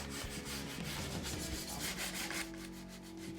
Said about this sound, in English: When you're sanding a piece like this,